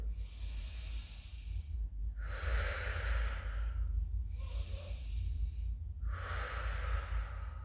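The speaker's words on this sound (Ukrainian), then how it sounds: "Трошки прискорюємо дихання." Quickened breathing in a body-awareness exercise, moving air through the belly and ribs: about four strong, breathy inhale and exhale bursts follow one another in a steady rhythm, close to the microphone.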